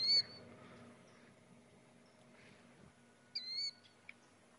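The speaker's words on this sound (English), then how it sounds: "Shut the fuck up, bird." Brief high chirping bird calls in the hunting game The Hunter: Call of the Wild, two short bursts near the start and again toward the end, over a steady low ambient hum of water and wilderness.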